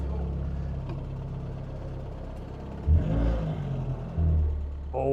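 Engine of a 1991 Renault Clio rally car idling loud and close with a steady low rumble, then revving in two short bursts, at about three and four seconds.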